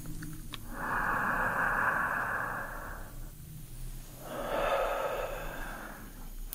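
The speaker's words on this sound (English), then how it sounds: "breathing in through the mouth this time" Two long, airy mouth inhales during a relaxing medical-exam roleplay, each lasting about two seconds and separated by a short pause, close and fairly soft with no talking.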